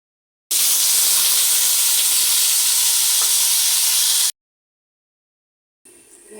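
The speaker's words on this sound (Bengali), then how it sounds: "এটা তেজপাতা ছেড়ে দিচ্ছি, গোটা জিরাটা দিয়ে দিলাম" Bay leaf and whole cumin dropped into hot oil, giving a loud, steady close hiss of sizzling for about four seconds before cutting to silence, then a quieter fragment returning at the end.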